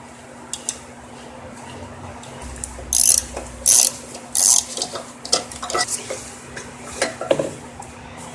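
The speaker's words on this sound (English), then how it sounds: "I'm going to put my bolts back in. Using a 10mm socket on these bolts." A ratchet with a 10mm socket drives bolts back into a Craftsman mower, model 917388113, in short bursts of rapid pawl clicking followed by sparse metallic clinks and taps nearby.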